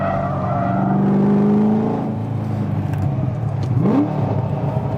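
A turbocharged Mazda Miata engine blips sharply during a rev-matched downshift on a track, revs rising then dropping, with a smooth whirring drone beneath.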